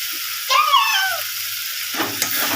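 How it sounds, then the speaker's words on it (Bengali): Masala spice paste fries in a pan for a fish head dish, with a brief sizzle and stirring scrapes and a short high squeak near the start. "মশলাটা কষা হয়ে গেছে।"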